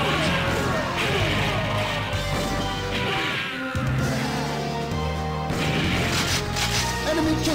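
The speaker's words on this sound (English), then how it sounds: "Rocket launch." Retro arcade game rocket launch effect: a dense, continuous burst of crashing, booming synthesized noise with layered tones, loud throughout and with no voice.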